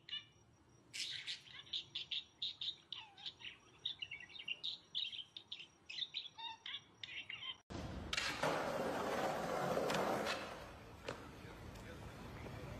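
Bird chirping in short, rapid tweets and squawks, close and fairly loud, repeated in quick bursts before a sudden switch to a broader wash of noise.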